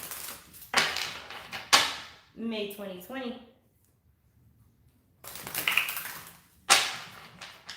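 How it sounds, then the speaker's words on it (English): Tarot cards are shuffled by hand in quick, crisp riffling bursts, a pair near the start and another pair near the end, with a brief spoken phrase and a quiet pause between them. "Let's shuffle, why don't we?"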